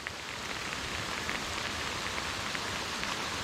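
Heavy rain pours steadily during a bass fishing tournament outdoors, a dense, continuous hiss of drops striking water and surfaces close by, with no talk.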